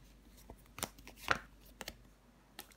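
Tarot cards laid down one after another on a table, giving a few soft slaps and brief sliding rustles spread across a couple of seconds, close and fairly quiet.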